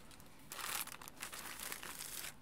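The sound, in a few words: keyboard box wrapping slid off, crinkling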